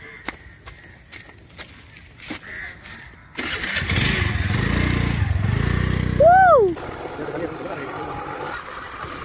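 A rental motorbike in Goa starting up after footsteps and light handling noises, its engine catching and running steadily for a few seconds with a brief rev before settling, close by.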